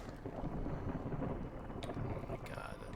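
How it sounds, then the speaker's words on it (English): A thunderstorm in the Against the Storm video game: a continuous low rumble of thunder and wind with rain-like hiss, steady and moderately loud, with a couple of brief sharp crackles near the end. "Oh my god, a storm is coming and I don't have any wood still."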